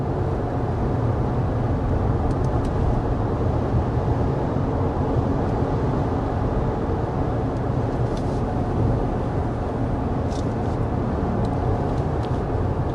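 Steady cabin road noise inside a 2024 Toyota Tacoma Limited with a 2.4-liter engine, cruising at 55 mph: a constant low rumble of tires and wind, even and unbroken, with no talking.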